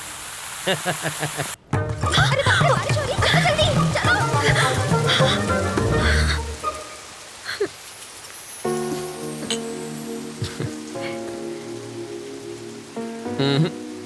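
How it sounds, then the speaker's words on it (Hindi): Steady rain pours down on surfaces outdoors with frogs croaking through it, a dense close wash of drops that drops out briefly, then continues with lighter patter and scattered croaks. "बरसात शुरू।"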